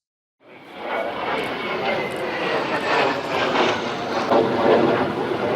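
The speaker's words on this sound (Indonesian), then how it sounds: "tim gabungan Komando Sektor 1 Medan berhasil memaksa turun pesawat asing yang memasuki wilayah udara Indonesia dengan mengerahkan 2 unit pesawat tempur jenis F-16" Two F-16 fighter jets flying during an air-defence exercise, a sustained loud roaring jet wash that rises in and holds steady throughout, with a voice speaking over it.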